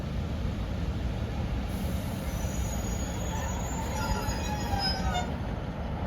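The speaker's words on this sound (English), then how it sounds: "Arriving now is the 1329 Northern service from Hexham to Nunthorpe." A Northern class 156 diesel train arrives at Metrocentre station with a steady rolling rumble and high, drawn-out wheel squeals as it slows along the platform.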